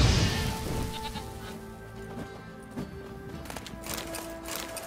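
Goats in the video game The Witcher 3 let out a couple of wavering bleats, loud at first then fading, over quiet ambient game sound with faint footsteps and thuds.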